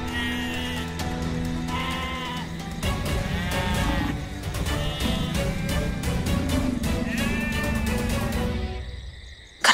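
A goat caught in a tiger's jaws bleats repeatedly in wavering cries over a busy, dramatic background of music and effects, ending abruptly.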